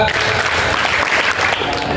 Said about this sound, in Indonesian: Tepuk tangan empat.